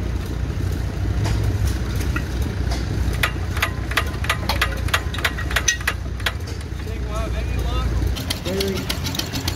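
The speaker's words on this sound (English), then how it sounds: "we're gonna get back on the sorghum press over here if this motor will start" An old engine running a sorghum press at a tractor show, a steady low chugging idle with irregular knocking beats throughout, while people talk nearby.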